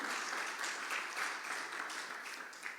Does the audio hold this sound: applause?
yes